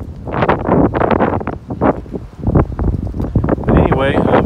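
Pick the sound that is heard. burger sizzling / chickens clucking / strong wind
strong wind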